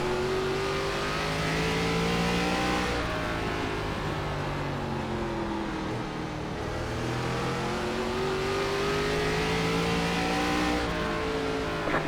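Race car engines roar continuously in an iRacing ARCA Menards Series race at Langley, a video game, with steady high-revving drones that rise and fall in pitch as cars pass, loud and with no talk.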